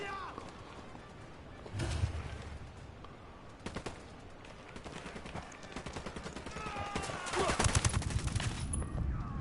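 Bursts of gunfire in the video game Ghost Recon Wildlands, some clustered and rapid like fusillades, rising loudest near the end over steady in-game ambience, with voices heard faintly.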